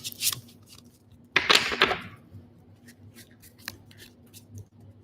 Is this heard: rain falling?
no